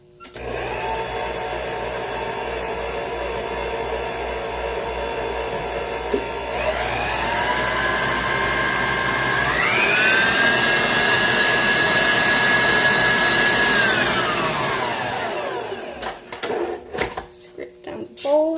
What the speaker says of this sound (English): If you are using a hand mixer or a stand mixer, like I am, you want to scrape down the paddle as well